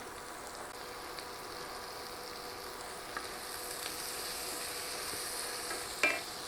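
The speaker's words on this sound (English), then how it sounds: "We're gonna add our minced garlic. We're gonna stir that in for 1 minute." Minced garlic being stirred into browned sausage in a skillet gives a steady soft sizzle with faint scraping strokes, plus one sharper clink of the utensil near the end.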